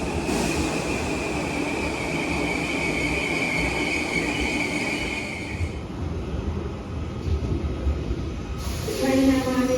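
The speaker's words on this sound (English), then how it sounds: "Train now arriving on platform 1 is your Kirby service." A Merseyrail Class 777 electric train, unit 777-001 on a Kirby service, pulls into a Liverpool platform with a steady rolling rumble and a high whine that fades as it slows and then settles.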